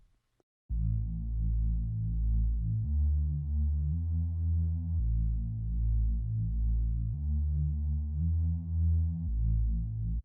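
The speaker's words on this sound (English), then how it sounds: "we are using a sound called Beautitude under the bass category" A deep, humming synth bass from the Spiral 'Beautitude' preset plays sustained notes that change every second or so, loud and continuous after a short quiet start.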